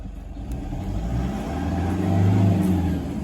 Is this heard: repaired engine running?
yes